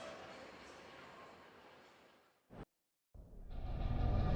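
A subway train rumbles loudly through a station, fades, then after a brief silence another roaring subway train sweeps in, growing louder.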